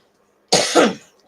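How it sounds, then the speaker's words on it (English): A single short, sharp cough comes close and loud from one person, a two-part burst followed by a faint trailing breath, alone without talk. "Keep coughing."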